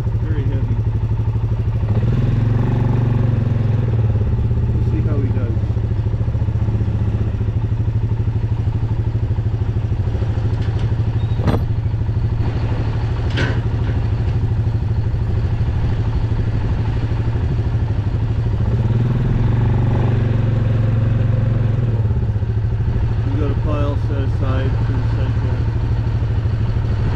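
A steady, low engine drone runs continuously throughout, loud and close, with occasional clanks and faint voices over it.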